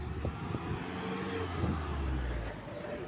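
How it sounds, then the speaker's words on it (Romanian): Cars passing a cyclist on a street, a steady low engine and tyre rumble with a louder swell mid-way, fairly close and continuous, no voices. "Da, trec mașini pe lângă mine"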